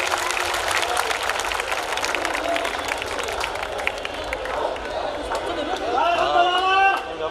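A crowd applauds loudly with dense, sustained clapping and chatter, and a few voices cheer as it continues, at a Hindi poetry recital (kavi sammelan) in Banswara.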